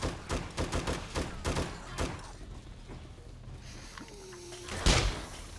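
A door opening in the survival video game 7 Days To Die, inside a military base, amid a rapid burst of sharp impacts, then a quieter gap with a low tone and one final loud bang near the end.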